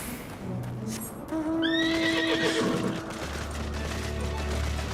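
A horse mount in Final Fantasy XIV gives a loud, rising whinny that sweeps up and then trails off, set over game ambience with a low rumble in the later part.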